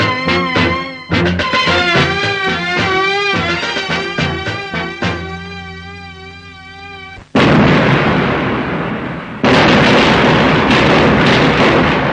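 Loud blasts of gunfire or firecrackers burst out in a scene from the 1991 Malayalam film Nayam Vyakthamakkunnu, following a passage of music with two heavy, sustained explosive bursts.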